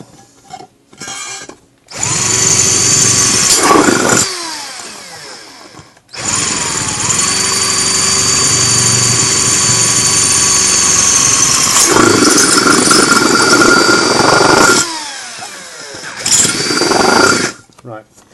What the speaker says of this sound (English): when you're drilling through it, drill through it any way it's easiest and most comfortable for the drill bit